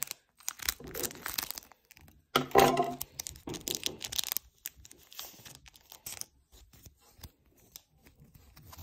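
Close crinkling and rustling of a plastic card pack with sharp scissor snips and tearing bursts, irregular and handled up close; no talking.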